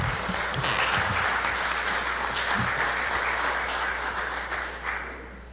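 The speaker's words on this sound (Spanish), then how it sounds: "Un fuerte aplauso para recibir a don Luis Paulino" An audience at an academic research gathering of a social sciences and humanities school claps to welcome a speaker, sustained close applause with a low steady hum underneath, tapering off toward the end.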